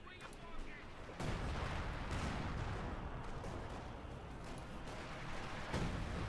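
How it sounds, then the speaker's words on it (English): Mortar and Sexton self-propelled artillery firing in the World War II strategy game Company of Heroes 2, a dense rumble of booms and blasts with a spoken commentary running under it. "Mortar firing down. We also got the Sexton there firing away."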